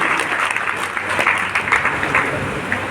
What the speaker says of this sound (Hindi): उसके लिए एक बार जोर से ताली बजाओ